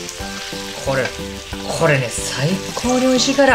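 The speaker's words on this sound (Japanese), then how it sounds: "スプーン入れて、で、こうかけてあげるね、これそうそうね、かけながら焼いていく。" Eggplant steak sizzles steadily in a pan as sauce is spooned over it while it fries, a continuous close crackle, with someone talking over it.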